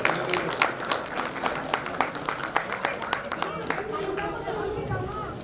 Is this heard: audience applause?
yes